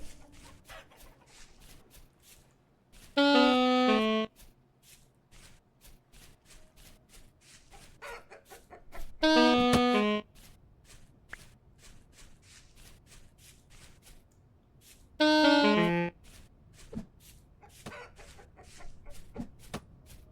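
Chickens in the survival game Vintage Story let out three separate bursts of loud clucking and squawking, spaced a few seconds apart, over soft rustling and footstep-like clicks from gameplay.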